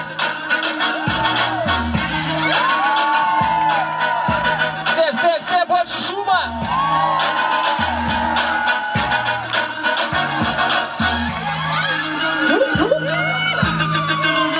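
Crowd at a hip-hop battle event claps rhythmically and cheers for a judge on stage, steady loud applause and whoops running throughout beneath a host's amplified voice and thumping music.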